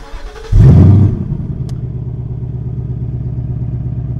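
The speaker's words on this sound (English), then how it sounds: "And that right there is what the Mustang GT experience is about. The sounds of this Coyote V8." A 2020 Ford Mustang GT with its Coyote V8 fires up: a short crank, then a loud roaring flare of revs that settles into a steady, burbling idle, heard alone.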